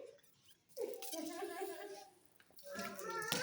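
Tap water runs and splashes during children's summer water play. The gushing comes in two bursts separated by a quieter gap, and children's voices talk and laugh over it.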